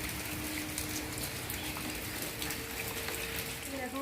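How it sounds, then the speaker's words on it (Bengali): Steady rain falling outside a home on a cloudy day, a continuous dense patter of drops with faint tonal hum in the background and no talking. "দেখো বৃষ্টি পড়ছে।"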